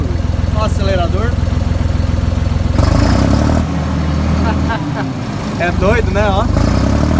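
A Massey Ferguson 4409 tractor engine idles and then revs up and down as the accelerator is worked, loud and steady. Someone talks over it.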